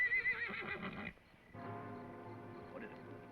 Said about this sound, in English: Fred, try to keep the horses quiet.